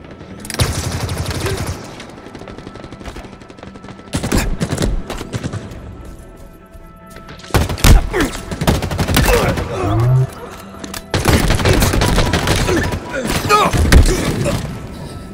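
Weapon fire in the video game Halo Infinite: loud rapid bursts and volleys with heavy booms, coming in several separate stretches with short lulls between them.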